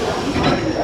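A train rolls into Mount Lavinia railway station in Sri Lanka with a dense, steady rumble and hiss, heard from close by, probably from on board.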